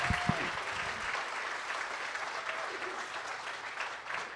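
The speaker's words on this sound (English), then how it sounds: "Let's give them one more round of applause." An audience applauds at a Physician Assistant graduation ceremony, steady dense clapping filling the hall throughout, with a short tone and a brief voice at the start.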